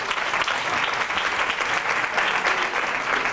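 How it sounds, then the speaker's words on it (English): An audience at a business pitch event applauds a team member, a steady, even wash of many hands clapping throughout. "Round of applause for Riho"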